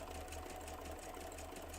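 A sewing machine runs steadily and continuously close by, giving a dense mechanical whir with a rhythmic low hum and no pauses or talking.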